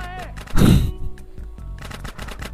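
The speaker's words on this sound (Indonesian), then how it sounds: "Mantap shotgun." Shotgun blast in the video game GTA San Andreas, one loud booming shot with a short decay, followed by softer game sounds and a voice speaking.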